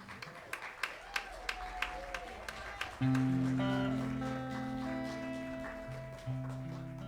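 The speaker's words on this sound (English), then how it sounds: "Big round of applause for Dwight." A church congregation gives a few seconds of scattered, evenly spaced handclaps after a birthday song, then sustained musical tones take over and carry on steadily to the end.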